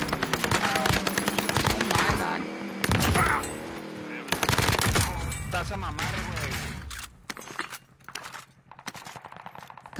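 Gunfire in a multiplayer shooter video game: rapid automatic bursts and single shots, loud and close, continuing in fast rhythmic volleys before thinning out near the end, mixed with game effects.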